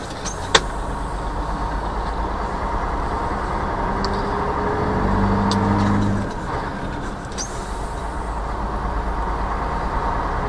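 Truck on a driving-school route in Bursa, heard from inside the cab: a steady, loud low engine and road rumble runs throughout, swelling slightly midway.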